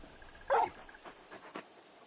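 Torgal, a big dog in the video game Final Fantasy XVI, lets out a short whimpering yelp up close, followed by a few softer whines over quiet game ambience.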